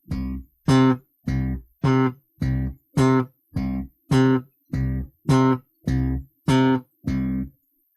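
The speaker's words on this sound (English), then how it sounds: "you want to lift your fingers to deaden the note right away to give you a very short staccato" Electric bass plays short staccato notes, twelve evenly spaced plucks, each cut off quickly by lifted fingers, loud and close with silent gaps between them.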